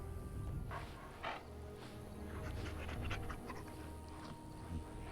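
A dog companion in the video game Dragon Age pants steadily and quickly, close and continuous, over a soft game ambience with a few faint rustling sounds.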